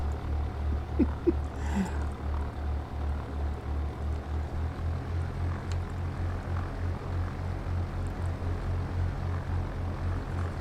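Propeller engine of an old Carenado plane in X-Plane 11, a steady pulsing drone with a regular rhythmic throb running throughout, close and continuous, with a few faint clicks early on.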